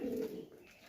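A tippler pigeon coos close by, a single low throaty burst at the start that fades quickly into quiet outdoor background.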